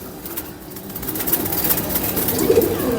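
Kept pigeons coo softly in a fancier's loft, several low, throaty calls rising out of a busy, rustling background that grows a little louder toward the end.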